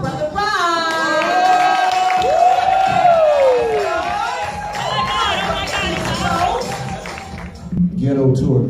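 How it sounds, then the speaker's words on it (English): The audience at a live spoken word awards show cheers and claps as a loud announcer's voice shouts and calls out over the crowd noise throughout. "Put your hands together, clap your hands, stomp your feet."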